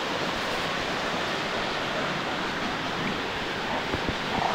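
A waterfall spills into a stream, giving a steady, dense rushing roar that fills the whole stretch without pause.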